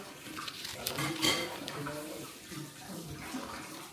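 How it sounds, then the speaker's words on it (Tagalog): A pet laps water noisily at close range, a wet slurping and splashing that runs through the few seconds with faint voices in the background. "umiinom si Piper ng tubig, kaya maingay"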